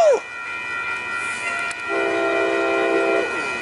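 Amtrak P42 diesel locomotive passing Oceanside station, with a steady rumble and a sustained horn blast toward the end, moderately close, no talking.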